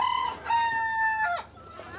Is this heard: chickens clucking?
yes